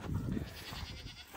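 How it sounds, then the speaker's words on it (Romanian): Several goats bleat and call on a farm around milking time, a few overlapping cries close by in the first half, then fainter calls over a steady outdoor background. "Ne duce să mulgem caprele, că uite, ne cheamă căprițele."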